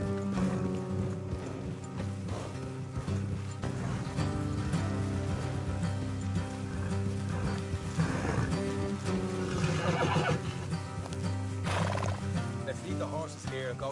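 Horses whinny and hooves clip-clop along a road in the Red Dead Redemption 2 video game, the neighs and steady hoofbeats sitting over a bed of game music.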